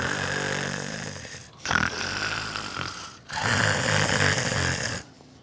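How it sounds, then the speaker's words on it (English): A lecture audience snores deliberately on cue, two long, loud group snores with a short gap between, a rough, rattling crowd sound filling the room, then quiet at the end. "And I want everybody to snore twice."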